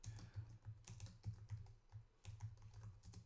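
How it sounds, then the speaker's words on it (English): Fingers typing on a computer keyboard, a quick, close run of light clicking keystrokes in an irregular rhythm, alone and fairly quiet. "And I'm typing Lepidus so that you can look at it when we switch back here."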